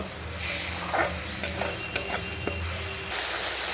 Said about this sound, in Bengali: মশলা কষাতে কষাতে এর মধ্যে মিক্সির বাটিটা দিয়ে খুব সামান্য একটু জল দিয়ে আবার একটু মশলাটাকে একটু ভালো করে কষিয়ে নেব